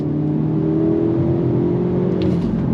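A 2024 Hyundai Elantra N sport sedan accelerating hard on throttle along twisty roads, a steady droning engine note rising slightly in pitch, heard from inside the car with no talking.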